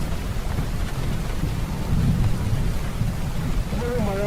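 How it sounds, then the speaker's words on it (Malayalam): Heavy rain pours during a thunderstorm over flooded Ranni, a dense continuous roar with deep rumbling thunder underneath and a brief voice near the end. "ഇടവിട്ട് ശക്തമായ മഴ പല സ്ഥലങ്ങളിലും പെയ്യുന്നുണ്ട്."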